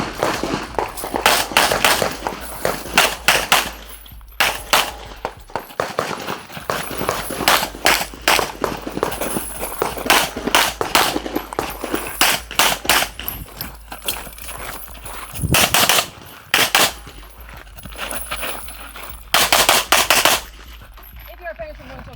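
Pistol gunfire at a shooting match stage, a long string of sharp, loud shots in rapid, uneven bursts with brief pauses between strings, close to the listener.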